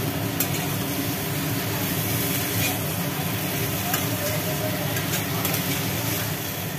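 Spices, potato and jackfruit are stirred and sautéed in a pan, producing a continuous close sizzle with scraping stir sounds throughout.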